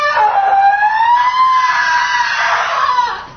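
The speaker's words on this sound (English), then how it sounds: "she begins to scream" A woman screams in a long, loud, wavering cry lasting about three seconds, close and alone, with no other voices.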